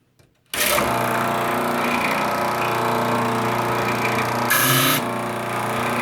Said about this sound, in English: What we do is just sand the ends of each board.